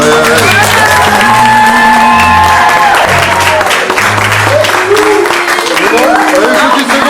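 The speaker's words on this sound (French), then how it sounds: "On va les applaudir, hein, ça y est, là." Wedding guests applauding and cheering at a civil ceremony, loud continuous clapping mixed with shouts and whoops, while music with a low pulsing bass plays along underneath.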